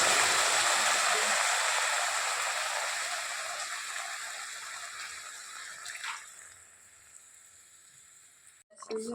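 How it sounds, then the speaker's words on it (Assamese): A steady broadband hiss and bubbling as chicken curry with sesame seeds comes to a boil in a pan, loud at first and gradually softening, with a brief clatter near the end. "এয়া উতল আহিছে"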